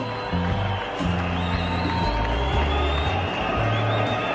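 A cricket stadium crowd at a 2007 World Cup match between Sri Lanka and Bangladesh lets out a broad murmuring roar, a dense wash of distant voices that rises and falls, with a commentator's voice faintly beneath.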